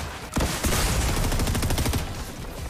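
Rapid automatic gunfire in the video game Fortnite, a dense, loud burst of repeated shots lasting about two seconds, close and dominant with no talking.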